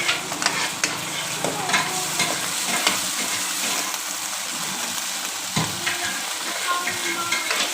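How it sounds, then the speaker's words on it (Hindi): Peas stir-fry in a hot pan for restaurant-style Chinese rice, a loud, steady sizzle with repeated scraping and tossing strokes of the spatula, close up and with no talk. "मटर डालकर आप इसको भूनेंगे"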